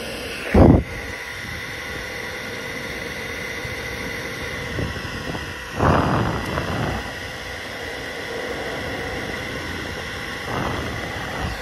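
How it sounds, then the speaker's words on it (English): A steady broadband whir of a heater fan runs throughout, with a few brief louder knocks and rustles over the constant hiss. "Sorry about that fan noise"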